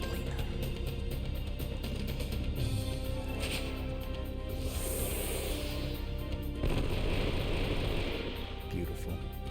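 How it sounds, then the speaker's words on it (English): Gatling gun attack in the PS2 role-playing game Wild Arms 3: a dense, continuous stream of rapid gunfire bursts with heavy rumbling booms, loud and steady throughout, with game effects layered over it. "Okay, it's the Gatling."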